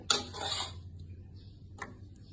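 Plates and cutlery clink while a meal is arranged on dishes, a bright clatter at the start, then a faint lone clink after a pause over a low room hum.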